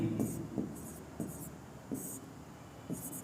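A pen scratches on paper in short bursts, about five strokes spaced roughly half a second apart, while a Class 10 maths problem is worked out in Hindi, with a faint voice in the background.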